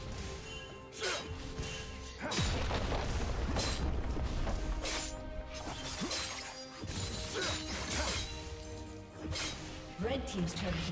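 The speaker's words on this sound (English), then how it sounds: "Red team's turret has been destroyed." A League of Legends turret gets destroyed with crashing, shattering impacts and booms amid busy game effects, while a voice talks over the action.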